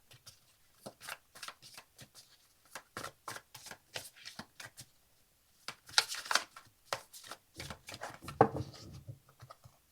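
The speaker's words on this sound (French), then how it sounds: "je vais réaliser un tirage à 4 cartes pour vous" Tarot cards being shuffled by hand before a four-card reading, a quiet, close series of soft riffling flutters and taps in an uneven rhythm, with no talk.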